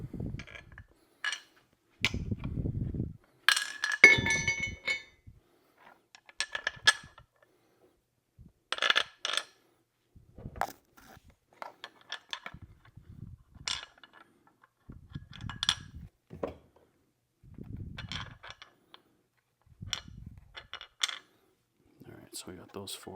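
Carriage bolts fitted into mounting holes on a Can-Am Outlander 1000 XMR tow system make scattered soft metallic clinks and taps, with quiet pauses between them.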